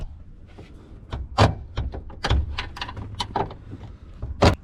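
An old Ford OBS truck door clunks and knocks as hinge pins are pried out, several sharp metallic thuds and scrapes at close range, with no talk.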